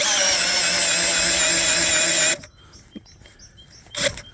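A small cordless screwdriver drives a large auger bit into acacia wood with a steady loud whine for two seconds, then stops abruptly, leaving faint clicks and a brief burst near the end.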